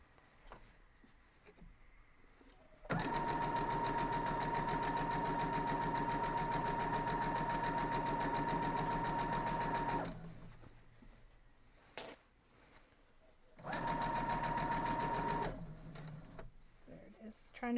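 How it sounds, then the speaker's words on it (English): A sewing machine stitches the last seam of a quilt block in two runs, one long and one short, each a loud rapid whirring chatter, with quiet handling noises and brief talk in the pauses. "Just sewing up this last seam."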